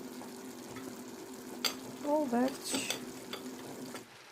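A spoon stirs sautéed onions sizzling in a frying pan, a close, steady sizzle broken by a few scraping strokes and clinks, with brief speech in the middle.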